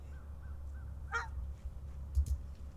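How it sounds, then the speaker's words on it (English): Canada geese in a park give one clear honk, followed by a few fainter calls over a low outdoor background rumble. "I noticed that 4 of them were Canadian geese, and one almost looked like a domestic goose."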